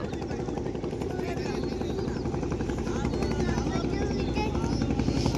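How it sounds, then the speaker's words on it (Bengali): Loud, rapid pulsing drone of a sand-dredging machine engine by the Meghna River, close and continuous like heavy machinery running, with voices talking over it. "ওটা হচ্ছে বালি তোলার"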